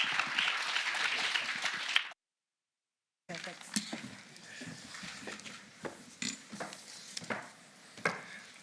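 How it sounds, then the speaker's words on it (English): An audience at a start-up day event bursts into loud applause to welcome two guests onstage. The clapping cuts off abruptly, followed by a short silence and then a speaking voice with scattered clicks. "Big round of applause for Jeremy with Amber."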